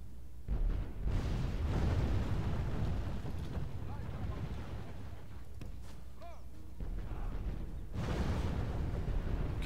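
Deep booming blasts rumble continuously, heavy cannon fire from a Medieval II Total War battle, loud and dense with a roaring low-end wash.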